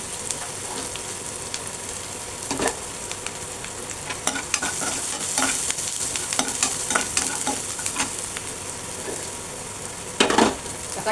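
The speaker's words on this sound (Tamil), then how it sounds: "இப்போ லைட்டாக கொஞ்சம் உப்பு போட்டு வெங்காயத்தை நல்லா வதக்கிட்டு" Onions sautéing with a little salt in a pan for a potato curry kulambu, a steady close sizzle of frying with repeated scraping stirs and occasional utensil clinks against the pan, no talking.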